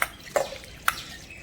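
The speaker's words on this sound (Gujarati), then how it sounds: "બધું પાણી નિતારી લઈશું" Syrupy water draining off raw mango pieces that have soaked in jaggery syrup, heard as three sharp separate drips and splashes spaced through a quiet moment.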